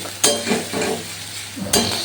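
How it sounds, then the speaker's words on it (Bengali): Onion paste fries in an oily pan with a continuous close sizzle, broken by two sharp spatula scrapes and stirring clatters about a second and a half apart. "পেঁয়াজটা ভালো করে একটু ভাজা হোক"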